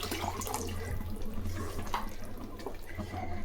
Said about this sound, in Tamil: இந்த டைமில் நம்ம ஊற வச்சு புளியை வெடிகட்டி வச்சுருக்கிறோம்